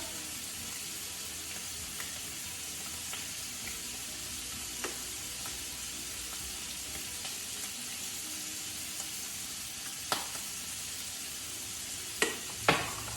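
Scallops searing in a hot pan give a steady, even sizzle throughout, with a few sharp clicks and taps near the end.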